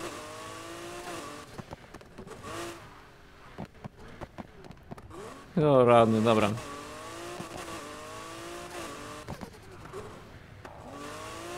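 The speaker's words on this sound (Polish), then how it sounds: "Mam za głośny samochód." A car engine revs loudly in a short burst midway in the video game Need for Speed Heat, surrounded by quieter engine hum and a voice speaking briefly.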